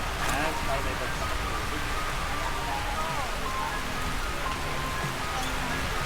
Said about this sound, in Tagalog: nagsimula ang ulan.